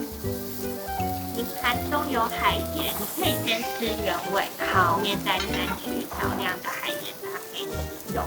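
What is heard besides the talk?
US beef short rib sizzling on a hot volcanic stone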